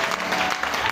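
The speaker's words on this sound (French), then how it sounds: "Est-ce qu'on peut acclamer le Seigneur? Alléluia." A church congregation applauding and acclaiming the Lord during a worship service: a dense, steady burst of clapping from a large crowd, filling the space evenly for a brief moment.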